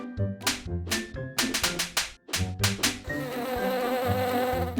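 A bee buzzes as a sound effect in a children's bedtime story, a steady insect drone that grows more sustained in the second half and sits among a busy musical background.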